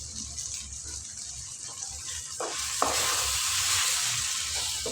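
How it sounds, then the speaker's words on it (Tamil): A pan sizzles steadily, then tamarind water is poured in while cooking a yellow pumpkin stir-fry and the hissing swells louder, with faint stirring and clinks. "லேசாக கொஞ்சம் புளி தண்ணி ஊற்றிக்கலாம்."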